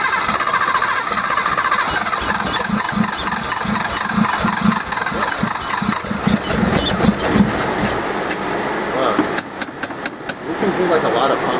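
A Datsun 240Z engine on Weber 40DCOE carburetors idles with a loud, uneven, throbbing rumble close by, with some pops and sharp clicks near the end and people talking over it.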